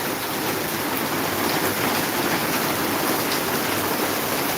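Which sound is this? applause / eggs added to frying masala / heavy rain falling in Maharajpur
heavy rain falling in Maharajpur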